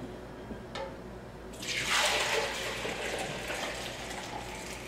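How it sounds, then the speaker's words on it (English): Kombucha pours steadily into a plastic bowl, a continuous splashing gush that starts after a quiet moment and keeps flowing. "I start by pouring it into this plastic bowl"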